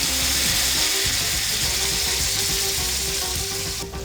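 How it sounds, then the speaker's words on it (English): Tomatoes and capers sizzle and fry in a hot pan for a salmon meunière dish, a steady broadband crackle with a faint tonal hum beneath, close and continuous with no talk. "Add the tomatoes and add the capers."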